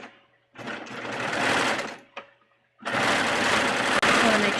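A home serger with a needle tension fault stitches swimsuit fabric in two sustained whirring bursts, with a short pause and a brief blip between them. A voice is faintly audible underneath.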